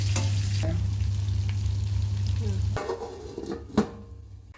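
Wet fish frying in an oil-filled pan under a lid, a steady soft sizzle with a low hum that cuts out partway, followed by a few clanks and scrapes, close and fairly quiet.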